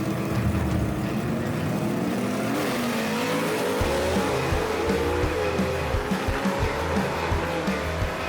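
Gasser drag race cars roar down the strip in a semifinal heat, loud and continuous engine noise with a revving, shifting tone and brief tire squeal near the end.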